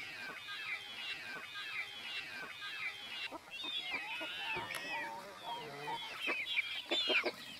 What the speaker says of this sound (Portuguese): Galinha bonita.